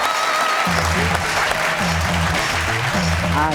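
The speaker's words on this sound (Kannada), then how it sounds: "ಎಲ್ಲರಿಗೂ ಒಂದು ದೊಡ್ಡ ಚಪ್ಪಾಳೆ ಬರಲಿ." A studio audience at a Kannada TV comedy show applauds steadily and loudly throughout, with a tonal background running under the clapping.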